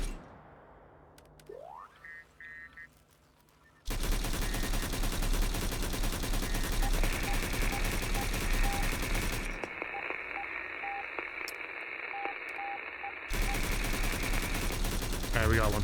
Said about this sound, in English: The AI trying to shoot through the wall.